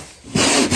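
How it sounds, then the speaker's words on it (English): Resin runs on a carbon fiber Genesis Coupe trunk are sanded out, a close, loud abrasive rasp starting abruptly after a quiet moment with a brief break near the end. "We're sanding it out."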